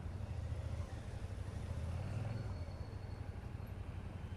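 Repaired motorcycle engine idling steadily at low revs, a soft, even rumble heard up close with no voices.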